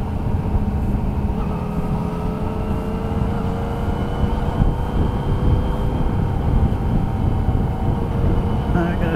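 A Nieken motorcycle engine riding in second gear at about 30 mph, a steady low droning hum with wind rush, loud and continuous throughout.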